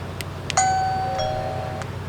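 A Wyze Video Doorbell V2 sounds its notification chime, a single clear electronic ding that rings out and slowly fades, preceded by a couple of faint clicks.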